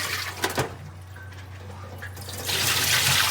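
Water splashing into a clay pot as it is rinsed, a short burst early then a steady, close rushing pour building toward the end, with no talk.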